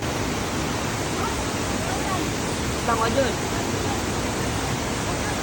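Water from a cold spring at a campsite in Impasug-ong, Bukidnon, rushing over slippery rocks in a steady, loud broadband wash, with a brief voice heard over it.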